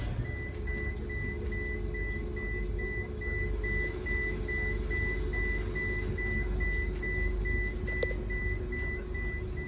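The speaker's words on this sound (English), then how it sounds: "There's a beep going on and a light flashing." A steady repeating electronic warning beep sounds over a loud, constant engine and road rumble aboard a Eurotunnel shuttle, continuing evenly throughout.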